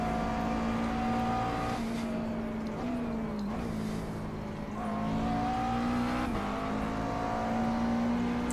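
Sustained, loud engine note of a McLaren MP4-12C GT3 race car held at full throttle through a left-hand corner at Road Atlanta in iRacing, pitch rising steadily with brief dips at gear shifts, continuous and alone without talk.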